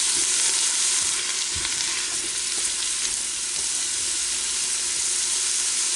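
Onions fry in a little bacon grease with a bright, steady sizzle, close and continuous, and a few faint utensil taps now and then.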